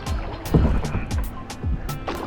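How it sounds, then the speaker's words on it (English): A kayak paddle dips into the sea off Barangonan Island, Palawan, with rhythmic splashes and water swishes about every half second, close by, under a voice and light wind. "Okay, so we're out kayaking."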